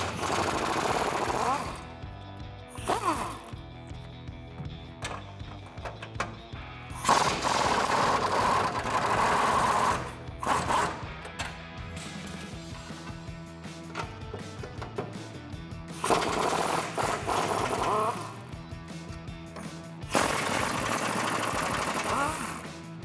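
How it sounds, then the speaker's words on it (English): Rear bumper hardware comes off a 2004-2014 Ford F-150 truck with a power tool, heard as loud bursts of rattling, hammering mechanical noise separated by brief pauses. "He's going to hold onto the bumper while I remove the last bit of hardware."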